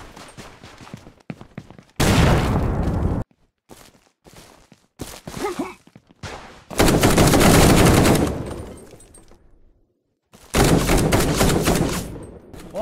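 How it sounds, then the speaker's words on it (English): Gunfire and explosions in the indie shooter Bad Way, with loud bursts of rapid automatic fire cut by short pauses and scattered single shots, close and harsh. "You can throw grenades, shoot red barrels."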